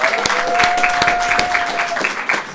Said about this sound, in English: Start clapping now for Leyla.